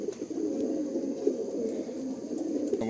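Andhra Kalanka pigeons with feathered feet cooing steadily and close, a continuous low rolling murmur from several birds with no talk.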